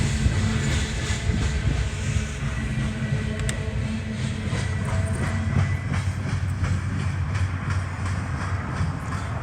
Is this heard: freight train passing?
yes